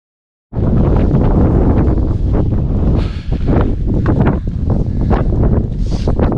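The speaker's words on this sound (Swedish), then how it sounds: "Det blåser på" Gusts of wind buffet the microphone on a mountain hike in the Helags fells, a loud continuous rumbling roar that starts abruptly and surges and dips throughout.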